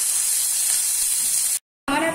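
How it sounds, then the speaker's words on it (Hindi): Onions hiss and sizzle loudly as they go into a pan over medium heat, a steady bright frying crackle that cuts out briefly before resuming. "गैस को मीडियम आंच पे रखिए और सबसे पहले मैं प्याज दे रही हूँ।"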